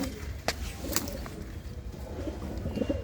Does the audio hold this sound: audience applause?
no